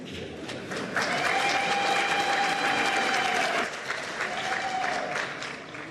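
An audience at a presidential announcement applauds the Chief Justice, a loud, sustained burst of clapping with a steady tone sounding over part of it before the ovation thins out.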